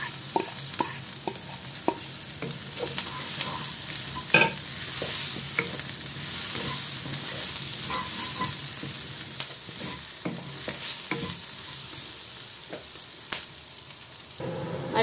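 Spices fry in a pan for a Bengali bean curry made with chili, turmeric, coriander powder and salt. A close, steady sizzle goes on throughout, broken by scraping stirs of a spoon against the pan, with no talk.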